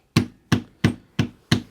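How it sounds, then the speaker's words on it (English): A hammer strikes small wooden pieces of a handmade pencil holder five times in a steady, evenly spaced rhythm. Each blow is sharp, close and loud, with a short ringing decay and no talking. "I'll hammer it down."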